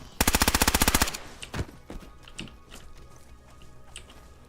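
Gunfire in a video game: a rapid burst of about fifteen sharp automatic shots lasting about a second, followed by a few scattered single thumps and quieter impacts.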